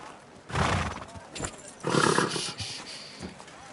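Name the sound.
horse from a video game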